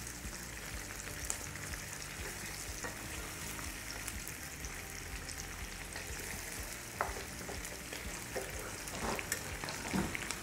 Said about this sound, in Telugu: సో ఇలా ఉల్లిపాయలు మంచిగా వేగాలి, పచ్చివాసన పోయేంత వరకు వేయించుకోవాలి.